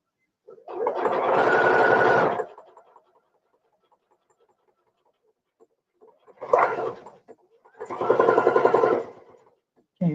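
A sewing machine stitches through vinyl in three separate bursts, a long steady run, then a short spurt and another sustained run, close and clear with quiet pauses between.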